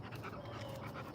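Rapid, steady dog panting right beside the microphone, with quick rhythmic breaths running the whole short moment and no talking.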